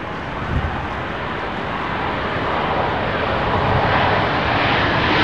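A fixed-wing airliner arriving on runway 27L at London Heathrow Airport on a windy day, a loud, steady jet roar that swells slightly toward the end, with no talk over it.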